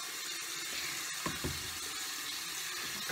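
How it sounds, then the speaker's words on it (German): Warm water running steadily from a tap, a soft, even hiss at moderate distance with a couple of brief splashes or clatters midway, no talking. "Warmes Wasser."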